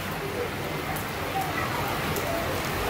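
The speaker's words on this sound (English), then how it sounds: "It's literally chugging it down." Steady hiss of heavy rain pouring down on Lanzarote, a dense continuous wash of drops with no voices.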